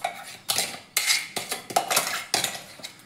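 Bottle gourd paste scraped and tapped into a bowl, about six sharp utensil knocks against the dish, each followed by a short scraping trail, close and clear with no talk.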